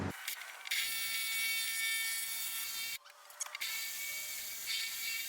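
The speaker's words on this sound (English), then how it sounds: "Drill it right on off so I could put on this new hinge" A power drill bores out an old hinge rivet on the window of a 4th-generation Honda Prelude, a steady high whine running almost continuously with a short dip midway, close and loud.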